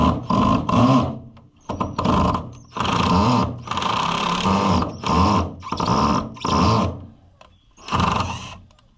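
Power driver sinking Phillips head screws while building a fence after storm cleanup, several bursts of whirring motor with a grinding mechanical squeal, each run lasting about a second, close and loud with short pauses between.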